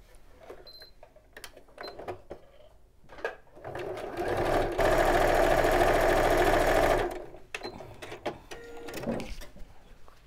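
A sewing machine runs a fast, steady burst of stitching for a few seconds on the final seam of a quilt block, bracketed by quieter handling clicks and fabric rustles.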